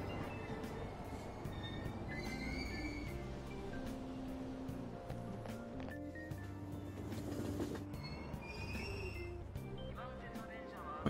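A train ride in the video game Persona 5 Royal: steady rumbling carriage noise with clacking wheels and occasional squeals rolls on continuously for about eleven seconds at moderate, even volume.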